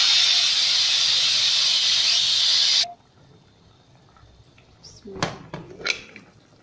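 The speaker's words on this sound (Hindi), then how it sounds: "अब हम कुकर खोल लेते हैं।" A loud, steady hiss of escaping steam from a pressure cooker cooking mutton cuts off abruptly, followed by metallic clinks and scrapes of the lid and pot.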